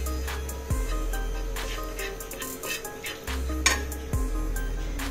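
Butter and Kashmiri chili powder being mixed in a pan for pav bhaji, with repeated metallic clinks and scrapes of a spoon against the pan over a low sizzle and a steady background hum.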